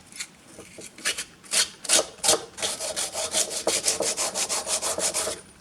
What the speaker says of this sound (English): And rub back and forth. And then that will make your wood smooth.